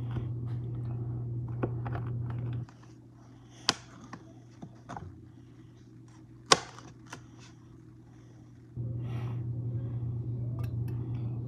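A knife slices through a pineapple held in place with a fork, producing scattered crisp cutting clicks and crunches amid a steady low hum.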